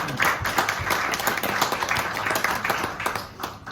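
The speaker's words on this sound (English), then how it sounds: "Give yourself a round of applause." An audience of wedding guests applauding, many hands clapping in a lively, steady patter that tapers slightly at the end.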